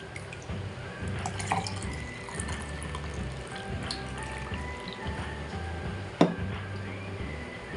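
Tap water from a municipal supply is poured into a container for a primary-school detergent germination experiment, a steady trickling splash with small drips and a clink near the end, no talk.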